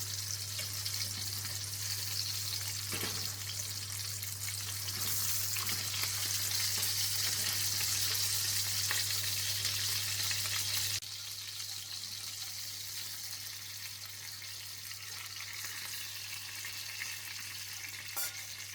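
A pork loin fries steadily in a hot pan just after being flipped, giving a dense, continuous sizzle with crackling that stays even and close, with one small shift in level partway through and no voices.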